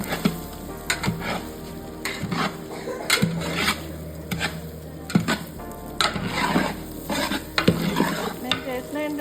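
Masala frying in oil for Godavari-style prawn biryani, with a steady sizzle under repeated scraping and clanking strokes of a spoon against the pot at an uneven rhythm, close and clear.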